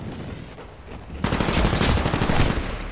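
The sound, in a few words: machine gun fire in the video game Titanfall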